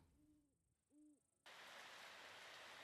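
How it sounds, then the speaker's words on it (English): In the video game Retro Rewind, two soft owl-like hoots sound before steady rain abruptly begins and continues as an even, hissing downpour, with no talk. "Oh no, it's raining."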